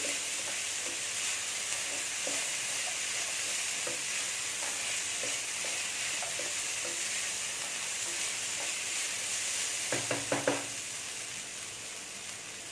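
Raw banana pieces frying in oil with turmeric, a constant soft sizzle with light scattered taps of stirring, then a quick cluster of louder scraping stirs near the end, no voices.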